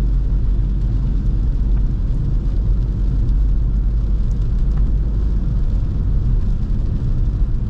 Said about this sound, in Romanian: Mașina merge impecabil